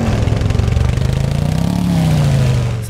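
A motorcycle engine in the video game Empyrion - Galactic Survival runs up close, a loud low pulsing drone whose pitch climbs steadily as it revs, with a faint rattle on top.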